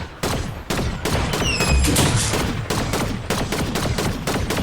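Video game gunfire in rapid automatic bursts, loud and close, with short gaps between volleys and faint whistling ricochet tones mixed in.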